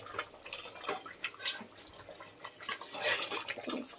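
Rice boils in a pot on a gas stove, giving a soft, steady bubbling and watery churning, close but fairly quiet, with no one talking.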